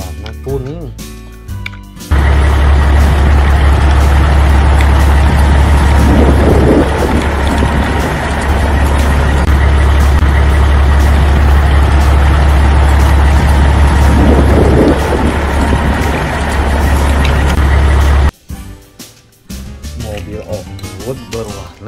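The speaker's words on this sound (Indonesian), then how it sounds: "Truk molen berwarna kuning." A yellow cement mixer truck rumbles with a heavy, steady engine roar that holds loud and constant for about sixteen seconds, then cuts off abruptly, with brief talk before and after.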